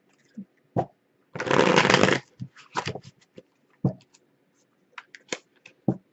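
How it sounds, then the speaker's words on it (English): Oracle cards are shuffled and drawn by hand, with a dense riffling burst lasting most of a second followed by scattered soft flicks and taps of card stock, close and fairly quiet. "let's pull Oracle cards first so I can get these cards out of the way"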